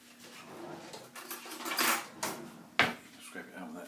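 A spoon scrapes and clinks against a container, scooping out cream for rum and raisin ice cream, in several short scrapes with one sharp knock, under quiet kitchen talk.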